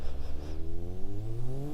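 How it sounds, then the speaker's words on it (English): A turbocharged car engine in the video game BeamNG Drive revs steadily upward, its pitch climbing smoothly, with a high whistling turbo whine riding on top, heard alone and fairly close. "I love the sound of the turbo"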